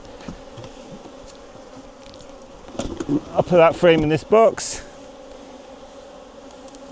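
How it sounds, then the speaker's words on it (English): Honey bees buzz around an opened hive on a morning inspection, a steady low hum that swells into a louder, close cluster of wavering buzzing while a person speaks briefly. "there's going to be a lot of bees at home this time in the morning"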